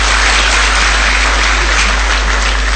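Applause from an audience at a Rotary Club honouring ceremony, a steady dense wash of clapping that holds loud and continuous from start to finish, with no voices above it.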